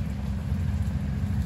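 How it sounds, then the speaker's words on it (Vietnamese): Heavy rain pours down outdoors during a storm on a riverside fishing trip, a loud, dense, unbroken roar of falling water close by, with no voices. "Quá trời mưa luôn"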